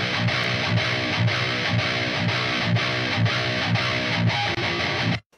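Distorted metal electric guitar, quad-tracked into a thick wall of sound, chugging steadily with rhythmic palm-muted pulses, loud and continuous before cutting off abruptly at the end.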